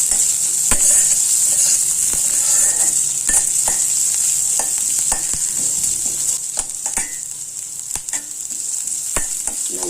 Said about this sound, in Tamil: இன்றைக்கி மிளகாத்து போட்டு தாளிக்கலாம், சில்லி ஃப்ளேக்ஸ் 2 போட்டு தாளிச்சிடலாம்.